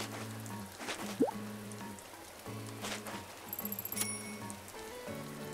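Rain patters softly in the Animal Crossing New Horizons video game, quiet steady dripping under a gentle looping game melody with a few soft chime notes.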